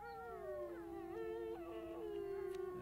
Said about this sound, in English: that's done with this very agitated bark howl.